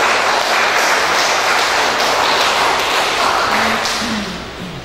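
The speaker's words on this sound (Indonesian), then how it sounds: "Jadi tepuk tangan ini buat Dumainya." A crowd at the opening ceremony of a Toyota dealer's auto show in Dumai applauds, a loud, continuous roar of clapping that holds steady and then begins to fade near the end.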